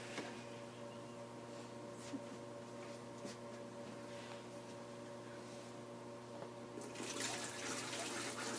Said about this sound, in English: And then we're going to fill this one with water.